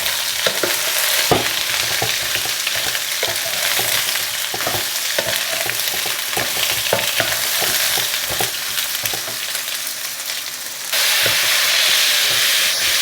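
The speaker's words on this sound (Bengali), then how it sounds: "ব্যাস এইবার এটা ভেজে নেবো একটু।" Washed, peeled and cut long strips of food fry in a pan with a continuous loud sizzle and spitting crackle, occasional stirring clinks, the hiss swelling brighter toward the end.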